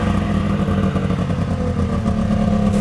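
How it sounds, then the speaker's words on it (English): The four-stroke engine of a Yamaha SXV triple snowmobile runs nearby, giving a steady, loud, throbbing idle with slight clatter throughout. "Sounds like a four stroke."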